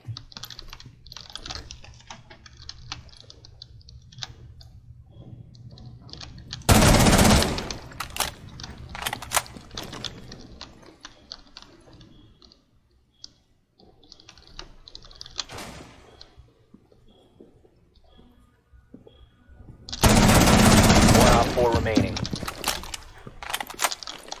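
Gunfire in Rainbow Six Siege, two loud sustained bursts of automatic fire over nearly constant rapid keyboard clicking, with quieter shots and clicks scattered in between.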